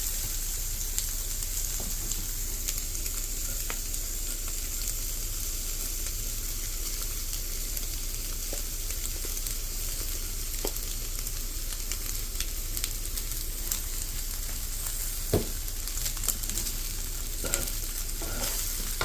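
Rice and beef sizzle and crackle in a hot pan for Thai basil fried rice, a steady dense frying hiss with the occasional scrape and clink of stirring, close and continuous, with no talk.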